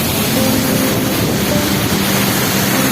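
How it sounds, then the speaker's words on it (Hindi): Dhareshwar waterfall thunders down close by, a dense, constant roar of crashing water that fills everything with an even wash of noise and no pauses. "एकदम आवाज़ बहुत सारी हो रही है झरने की।"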